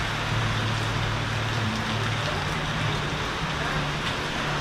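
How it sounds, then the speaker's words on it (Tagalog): Heavy rain pours down in a steady, dense roar that fills the whole stretch, with a low hum running underneath and no pauses. "Ang lakas na naman ng ulan, mga kanipi."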